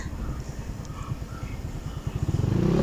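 A motorcycle rides through a rural province on the way to a market, its engine puttering steadily close by, then rising into a louder, pulsing rev near the end.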